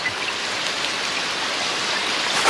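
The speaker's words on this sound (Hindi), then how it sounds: "अरे कितनी तेज बारिश हो रही है आज" Heavy rain pours down in a steady, dense hiss, loud and unbroken from start to finish, with no voices.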